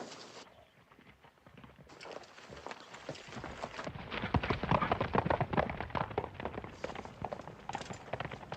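Horse hooves clip-clop in a 1953 Western action scene, a rapid, irregular clatter that starts faint and grows louder and denser toward the end, with no talk over it.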